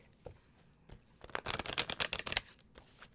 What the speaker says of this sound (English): You shuffled? I did.